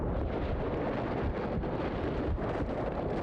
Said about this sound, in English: Along with the ear-splitting sound of an explosion, I was slammed with an even greater impact than before.